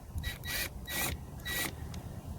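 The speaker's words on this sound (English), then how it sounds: "I got my Ryobi impactor, it's a 3-speed, I got it in the mid-level torque range, and I'm going to put it down in here" A Ryobi 3-speed impact driver set to mid-level torque drives a 10 mm bolt during a Yamaha R6 battery change, giving three short, loud, rattling bursts separated by brief pauses.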